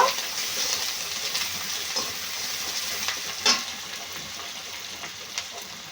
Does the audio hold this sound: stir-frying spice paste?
yes